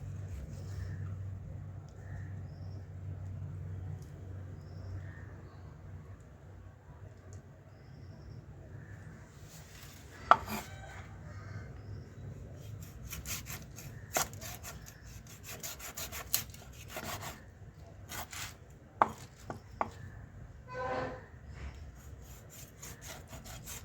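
A knife saws through the head of a Sheela fish during cleaning, with rough scraping strokes and scattered sharp cracks and clicks on a cutting board, close, over a faint low background hum.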